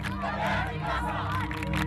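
A crowd at a peaceful protest demonstration in Aleppo, Syria, chants and shouts loudly in unison, a dense roar of voices filling the whole short stretch.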